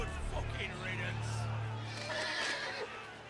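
A horse whinnies in the Telltale Game of Thrones video game, a drawn-out neigh amid game sound effects and a low droning score, with a player's voice heard over it.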